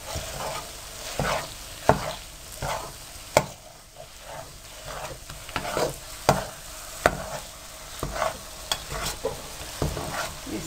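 Makhadi halwa roasting in ghee in a kadai is stirred and scraped with a spoon, giving a steady run of sharp scraping strokes every second or so over a soft, continuous sizzle.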